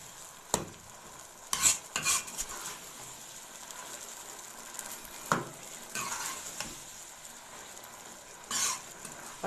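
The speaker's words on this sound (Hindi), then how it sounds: "तो अब 3 से 4 मिनट मैं इसकी करूँगी भुनाई" Maash dal being stir-fried on high flame for a dhaba-style dal, with a steady soft sizzle and intermittent scraping stirs of a spoon against the pan, close and moderately loud.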